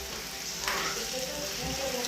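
Beetroot slices for bhajiya hiss and sizzle as they hit hot oil in a home kitchen pan, a steady close frying crackle with a brief sharper splash near the start.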